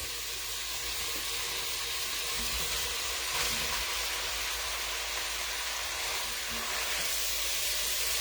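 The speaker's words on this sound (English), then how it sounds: "So to that, I'm going to add my potatoes and my carrots." Steady close sizzling and frying hiss fills a pot for clam chowder as potatoes and carrots go into the hot fat, with faint stirring scrapes and no voices.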